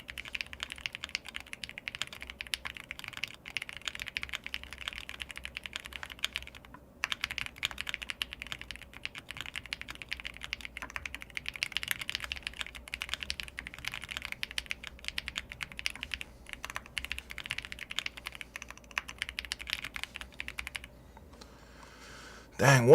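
Fast, continuous typing on a computer keyboard during a TypeRacer race: close, crisp keystrokes in a dense stream, a brief pause near seven seconds, then tapering off toward the end with a louder knock at the finish.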